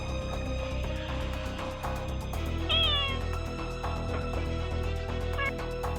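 A cat lets out two meows at a front door, the first longer and louder, heard close over a constant background hum.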